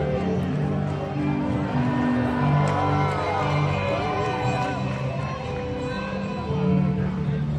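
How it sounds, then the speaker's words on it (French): Large outdoor crowd at a drone show cheering and applauding, a dense steady roar of voices and shouts close by that swells near the end, with some people talking in the mix. "Cette prestation spectaculaire, saluée par des vifs applaudissements"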